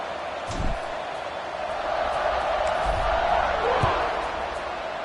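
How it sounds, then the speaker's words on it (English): Football stadium crowd roaring steadily before a kickoff, a dense, loud wash of cheering that swells slightly through the middle, with a few thumps and shouts poking out. "this crowd is feeling themselves after that last drive"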